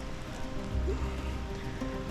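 Rain falls steadily during a bass fishing outing, a soft continuous patter of drops on water and nearby surfaces with a few low thumps, fairly faint and even throughout.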